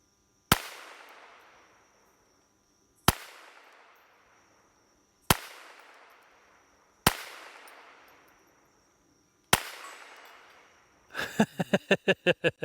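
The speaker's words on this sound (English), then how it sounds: "So I shot that candle out using this little thermal." Five sharp, loud gunshots spaced a few seconds apart, each ringing out with a short decay, fired at a candle wick through a mini thermal scope. A quick rattling burst of metallic clicks follows at the end.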